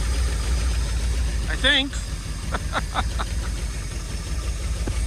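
A 1958 Edsel's engine idles with a steady, close low rumble that runs throughout, while someone briefly speaks over it.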